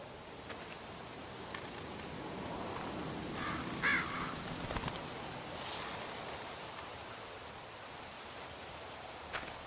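A single crow caws a few times in the distance over a steady wash of wind and rustling leaves.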